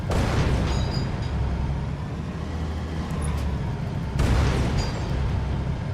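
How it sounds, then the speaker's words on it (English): Rumbling blasts from a tank shell in Halo 2, a couple of muffled low booms with noisy tails, the second arriving a few seconds after the first, no speech. "Tank has been cursed with micro-explosion syndrome."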